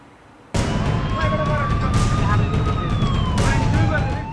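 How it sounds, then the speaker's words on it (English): An ambulance siren wails as the vehicle pushes through raging floodwaters during flash floods in Tripura, with rising and falling tones sounding loud and continuous over heavy broadband water and road noise. "An ambulance forcing its way through the raging floodwaters in Tripura."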